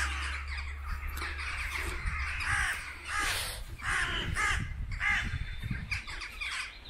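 Crows cawing repeatedly in Wombwell cemetery, a noisy flock of harsh, rasping calls overlapping one another, fairly close and continuous, with no talking.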